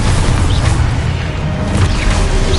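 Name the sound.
explosion from a spell in a Hogwarts video game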